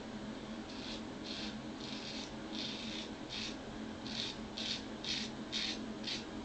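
A Rolls razor scrapes across skin in about ten short, regular rasping strokes, close and distinct over a steady background hiss, with no speech.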